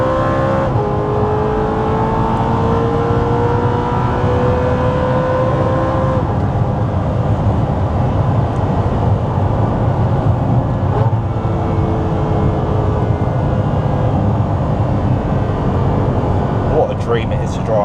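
An Audi R8 engine drones steadily and loudly throughout, with a rising pitch sweep early on suggesting acceleration, recorded from inside the car.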